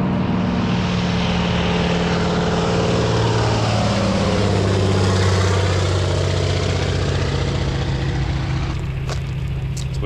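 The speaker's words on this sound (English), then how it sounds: "There's a bush plane coming in with floats on it." A float-equipped bush plane in springtime Alaska drones steadily overhead, its propeller engine loud and continuous for the whole stretch and building slightly as it approaches.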